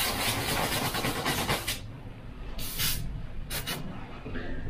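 An airbrush sprays paint at low pressure over a paper stencil held down by hand, a steady hiss in long bursts that stops briefly, then returns in two short sprays.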